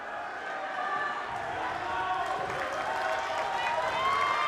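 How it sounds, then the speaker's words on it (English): A crowd at a college dodgeball quarterfinal between Akron and Grand Valley State builds up before play, steady cheering and chatter in a gym that swells gradually louder, with a commentator talking over it. "And you can hear the crowd is already getting amped up"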